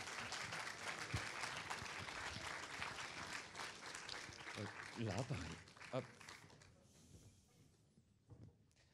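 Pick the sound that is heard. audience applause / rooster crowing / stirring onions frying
audience applause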